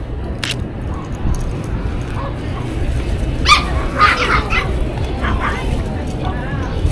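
Dogs give a few short yips and barks amid a busy outdoor street dog show in Japan, with people talking nearby throughout and traffic-like rumble underneath.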